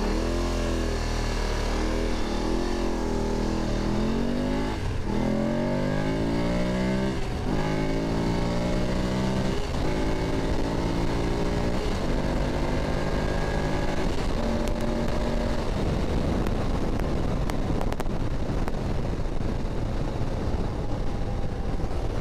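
A BMW F850GSA motorcycle accelerating hard on an interstate on-ramp, engine revving through repeated rising gear sweeps, loud and close with wind noise, no talking.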